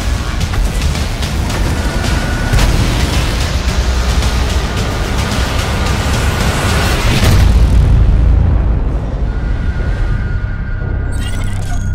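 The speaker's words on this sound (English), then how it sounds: "artillery with the quick-firing 90mm gun" Quick-firing 90mm gun of the M41 90 GF light tank in World of Tanks, loud booming blasts and explosions over heavy rumbling, with the noise dropping away toward the end.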